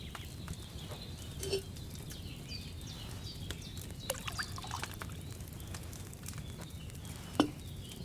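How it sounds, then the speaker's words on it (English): Wine is poured from a pitcher into a cauldron in the game Kingdom Come: Deliverance II, a soft continuous pour over a quiet ambient bed, with a few faint knocks and clinks scattered throughout. "What did you pour in there? Wine, of course."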